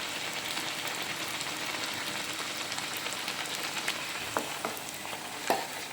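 Chettinad white paniyaram cooks over a reduced flame in a pan, giving a soft, even sizzle throughout, with a few light taps and clicks near the end and no voices.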